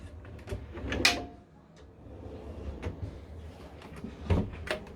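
Drawers in a top-of-the-range Notin Liner RV slide and bump shut a few times nearby, with a sharp knock near the start and another toward the end, over quiet room noise.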